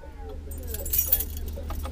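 Keys jangling with a bright metallic rattle in a short burst near the middle, moderately close, over a low steady vehicle hum.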